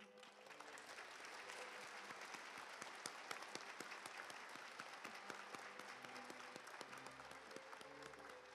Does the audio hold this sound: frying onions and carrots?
no